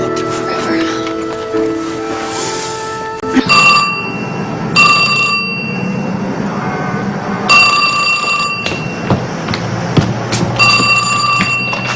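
Telephone ringing for a long-distance call in a 1979 soap-opera scene, with repeated bright electronic ring bursts recurring through the clip over background talk and room noise.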